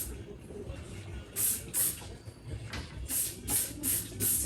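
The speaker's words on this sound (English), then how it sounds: "I'm just gonna Lysol the floors too" Lysol disinfectant hisses from a spray can in short repeated bursts, about seven sharp sprays, onto the floor of a very dirty bathroom during a messy house clean, close and fairly loud.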